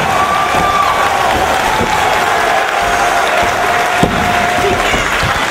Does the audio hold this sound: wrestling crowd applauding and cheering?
yes